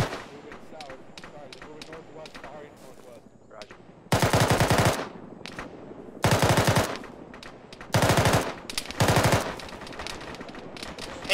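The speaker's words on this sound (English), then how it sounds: "AK fire to our west" Bursts of automatic AK rifle fire in an Arma jungle trench battle, four loud sustained volleys from the near-middle distance, separated by quieter stretches of distant shots and faint background activity.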